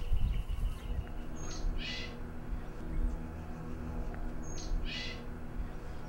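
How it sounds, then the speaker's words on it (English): Two short bird calls sound at moderate distance, about three seconds apart, each a brief high note, over a steady low background rumble. "Look at these birds, with their wings and their aerodynamics and their eyes"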